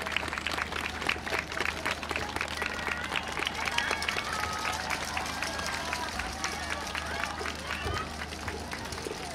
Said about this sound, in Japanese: 再度皆様拍手の方よろしくお願いします